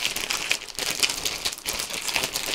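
A plastic bag holding card sheets crinkles continuously, close and loud, with bursts of rustling and no speech.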